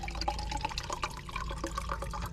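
Water and leftover ice swirled together in a cup outdoors on a hiking trail, with continuous close sloshing and liquid trickles over a low rumble.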